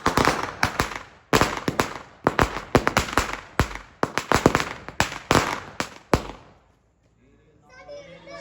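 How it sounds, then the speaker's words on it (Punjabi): A long string of 1000 Diwali firecrackers rattles off in loud, rapid bursts of cracks for about six seconds, then stops, leaving faint voices in the distance. "1000 ਪਟਾਕਿਆਂ ਦੀ ਲੜੀ ਲੜੀ ਪੂਰੀ ਵੱਡੀ ਲੜੀ"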